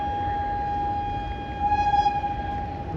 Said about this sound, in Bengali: ট্রেনের টাইমে ছেড়ে বেরিয়ে যায়।